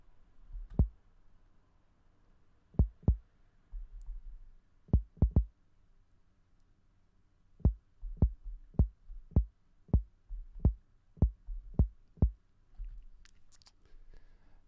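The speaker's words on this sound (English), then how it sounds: "The kick sounds like this." Kick drum sample from a Cubase project, short punchy low thumps played alone in an irregular pattern, with single hits and quick doubles and then a steadier run of about eleven even beats.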